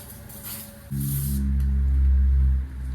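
Oven cleaner sprayed from an aerosol can onto a vehicle transmission in a garage, short hissing bursts followed by a louder low rumbling hum that swells and fades.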